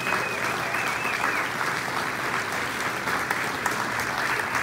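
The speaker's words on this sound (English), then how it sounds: "How about a round of applause for all of our inductees here tonight?" Sustained applause from a hall of fame induction audience, a steady, dense wash of many hands clapping at an even level throughout, with no pauses and only faint crowd murmur underneath.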